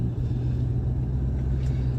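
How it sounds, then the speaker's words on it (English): A 2007 Mustang GT with a rattling exhaust idles or cruises in a continuous low rumble, steady and fairly loud with no speech heard. "Sorry, my exhaust does rattle a little bit."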